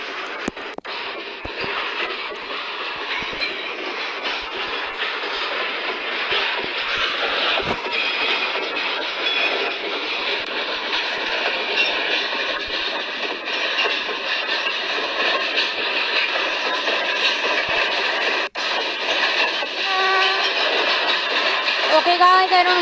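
An Indian passenger train accelerates on the rails with a continuous loud rumble and rhythmic clatter of wheels over track joints, heard from inside a carriage throughout.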